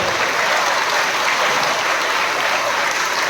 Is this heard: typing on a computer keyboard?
no